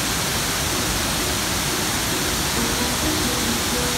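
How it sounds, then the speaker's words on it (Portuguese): Shiraito waterfall in Shizuoka, Fujinomiya, roars as a dense, constant broadband rush of falling water heard up close beneath the falls, loud and unbroken with no voices. "Tô embaixo de umas quedas aqui."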